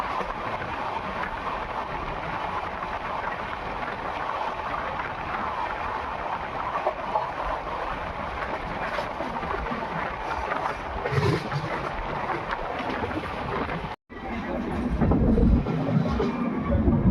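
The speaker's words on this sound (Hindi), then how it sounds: "तो गैस देवोदय एक्सप्रेस अब स्किप करने जा रही है नरेना रेलवे स्टेशन को" A continuous rumble and rushing roar comes from onboard the Dayodaya Express as it runs through Narena station without stopping, with steady wind noise and a brief cutout before the sound swells louder, with no talking.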